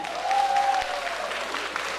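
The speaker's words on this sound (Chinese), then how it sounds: "再次掌声，谢谢所有移居台北的客家前辈们" A concert audience in Taipei gives sustained applause, a dense wash of many hands clapping at once. A brief high whistle-like tone rises over the clapping early on.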